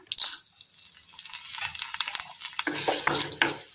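Vermicelli drops into hot oil with a sharp sizzle, followed by stirring clinks and scrapes before the frying swells again near the end.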